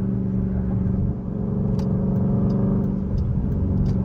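A Dodge Durango Hellcat with an AWE exhaust roars steadily under load, a deep continuous engine rumble heard from inside the vehicle, with a brief dip in level before the growl resumes.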